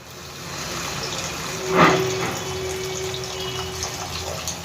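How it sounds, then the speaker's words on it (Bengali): Water is poured in a small amount into an egg keema curry cooking in a pan, a steady close hiss of pouring and simmering with one brief louder splash near the middle, no talking. "এবার আমি পরিমাণ মতন এর মধ্যে জল দিয়ে দেবো খুব অল্প পরিমাণে দেব"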